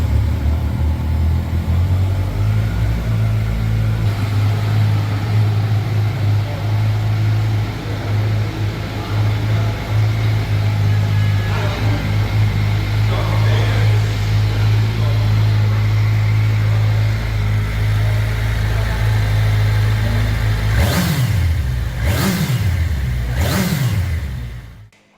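A Kawasaki Ninja ZX-10R sport motorcycle engine runs at a steady, loud idle with a strong low hum, then near the end gives three quick sharp revs that rise and fall before cutting off.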